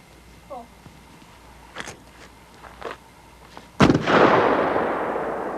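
A single shotgun blast goes off during a live bird hunt, loud and sharp with a long rolling echo, after a few faint knocks and shuffling sounds.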